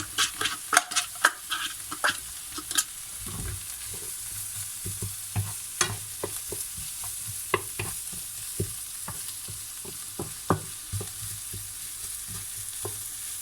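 Onions and garlic sizzle steadily in a pan while a utensil stirs and scrapes in irregular clicks and knocks, close up and without any talk.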